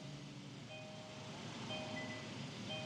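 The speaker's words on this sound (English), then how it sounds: "Car is running right now." A 2016-2020 Kia Optima idles just after starting, giving a steady, low engine hum. Faint electronic tones sound on and off over the hum, with no talk.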